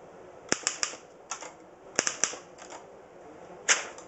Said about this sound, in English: Let me try it with just hitting a few keys.